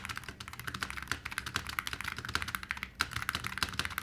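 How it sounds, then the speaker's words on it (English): Rapid, close clicking and rattling of mechanical keyboard switches, a steady stream of keystrokes with no voices. "I don't know what's causing that rattling at that point. Perhaps the switch."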